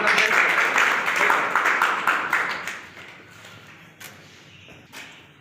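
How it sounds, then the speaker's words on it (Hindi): Dense applause from a seminar audience, loud at first, then thinning out into a few scattered claps and thuds as it dies down. "एक जोरदार तालियों से स्वागत करें"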